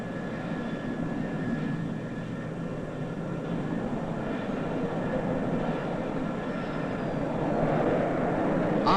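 Concorde 002 landing at RAF Fairford in Gloucestershire, a continuous low jet rumble and roar, fairly distant and steady, swelling slightly toward the end.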